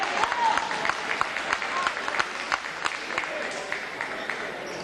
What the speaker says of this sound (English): Wow, some very loud clapping next to me